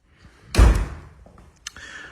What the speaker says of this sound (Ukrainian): Двері зачиняються, все працює.